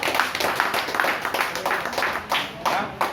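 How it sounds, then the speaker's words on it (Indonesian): An audience at a presentation breaks into clapping, a moderately loud burst of uneven claps with distinct pulses, scattered voices mixing in. "Tepuk tangan."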